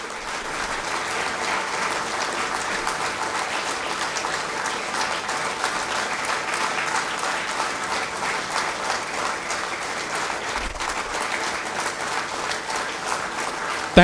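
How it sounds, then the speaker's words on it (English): Graduate students at an MBA cohort inauguration ceremony clapping for themselves, sustained hall-filling applause from a large seated audience that holds steady and loud for the whole stretch, with no speech over it. "Give yourself a big clap."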